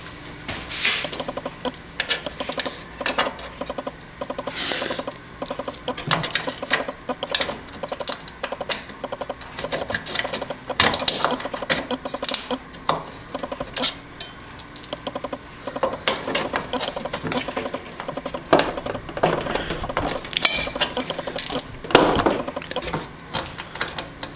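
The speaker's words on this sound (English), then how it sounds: "simply take a flat-headed screwdriver and pry up on each edge of it until it comes out" A flat-headed screwdriver pries a ROM chip from its socket in a Yamaha DX7 synthesizer, giving small irregular clicks, scrapes and ticks close by, steady and fairly quiet throughout.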